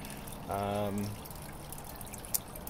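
Water circulating in a backyard pond's swirl filter gives a constant soft trickling wash. A brief voice sounds near the start over it.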